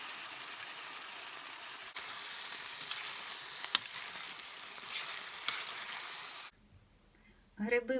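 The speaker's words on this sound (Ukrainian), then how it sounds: "Спочатку я до готовності підсмажу гриби" Mushrooms fry in a pan with a loud, steady close sizzle and occasional pops. The sizzle cuts off, leaving near silence, then a person begins speaking.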